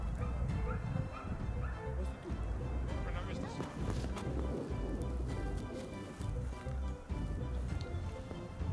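Dogs barking and yipping in the field during a fox hunt that flushes foxes from a haystack, the barks coming in bursts over outdoor noise and people talking nearby.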